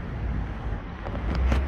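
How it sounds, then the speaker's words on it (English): Low, rumbling wind buffets the microphone steadily, a blustery roar with no voices. "it is damn windy out there"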